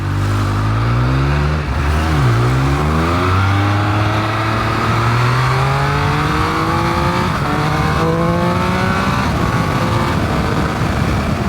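Triumph Speed Triple 1200 RS motorcycle engine revving and pulling hard as it is ridden, loud and close, the pitch climbing through several rising sweeps with brief dips at gear changes, no talk.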